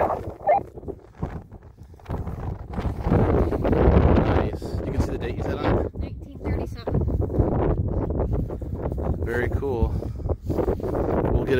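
Wind buffets the microphone outdoors during a metal detecting outing, a low gusting rumble that rises and falls beneath someone talking throughout.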